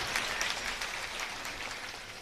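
An audience at an outdoor stage comedy show breaks into applause, a continuous wash of many hands clapping heard from a distance and fairly faint.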